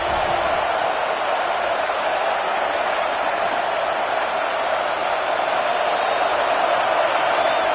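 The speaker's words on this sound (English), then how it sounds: "this crowd coming to life here, trying to help the defense get a stop" Steady, continuous roar of a large stadium crowd at a football game, swelling as the home fans get loud to help the defense make a stop; a dense, even wash of noise with no individual voices standing out.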